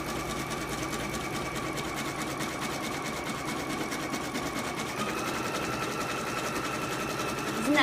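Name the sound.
embroidery sewing machine stitching a placement stitch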